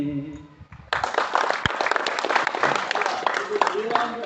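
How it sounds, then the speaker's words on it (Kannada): An audience at a satsang gathering in Raichur breaks into loud applause after a short spoken phrase, dense sustained clapping that fills the rest of the moment. "ಜೋರಾದ ಚಪ್ಪಾಳೆ."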